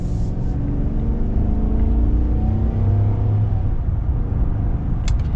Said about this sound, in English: let's get our full-blown acceleration now